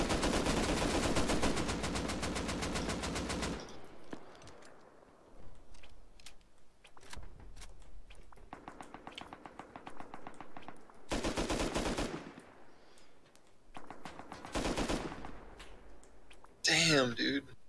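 AK rifle bursts in the survival game Rust, several loud automatic volleys separated by quieter gaps, with some background talk.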